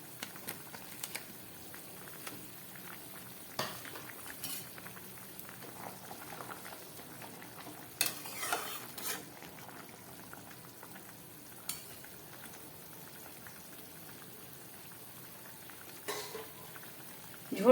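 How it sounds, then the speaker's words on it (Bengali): Fish curry simmers in a pot as fried fallui fish are dropped in, a soft bubbling with scattered pops, splashes and a few clinks, quiet and close. "ঝোলটা ফুটে উঠেছে, এবার এই ভেজে রাখা মাছগুলো আমি এর মধ্যে দিয়ে দিচ্ছি"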